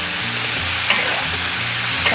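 Goose meat stir-frying in a wok with dark soy sauce, rice wine, star anise, bay leaves and cinnamon, giving a steady close sizzle and hiss with light scraping stirs, no voices.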